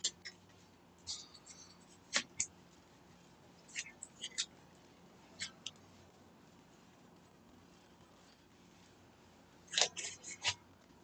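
Board game cards shuffled at a table during a tournament game, heard as scattered soft crisp riffling and snapping bursts at irregular intervals, close and quiet, with no talk.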